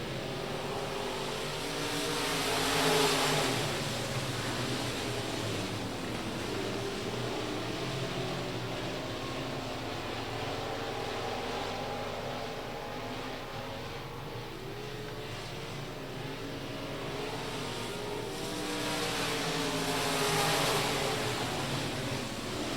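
USRA Limited Mod dirt-track race cars roaring around Rocket Raceway Park, a steady wash of engine noise from the pack that swells around the start and again near the end, heard from a distance with no talk.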